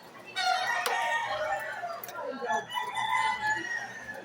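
Chickens cluck and a rooster crows in a busy farmyard, with people talking nearby under a steady background hum; one chicken is being treated for an infected wound to its intestine.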